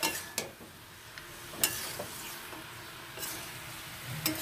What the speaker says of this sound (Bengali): ভালো করে মিশিয়ে নিচ্ছি যাতে মশলাটা সব সবজিটাই মিশে যেতে পারে